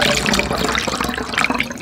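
Warm water, drip-filtered and heated to 110 degrees, pours steadily into a container for a DIY CO2 generator, a loud continuous splashing gush up close.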